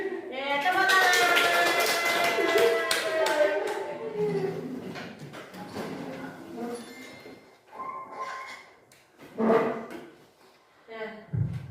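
A group claps together in a school training session, with a dense burst of applause at the start that is loud and close, then fades into scattered claps and speech.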